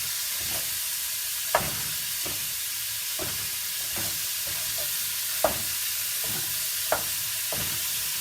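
One and a half pounds of ground beef is broken apart and browned in a cooking pot for chili. A steady sizzle runs throughout, with sharp scraping strokes of a utensil against the pot every second or so.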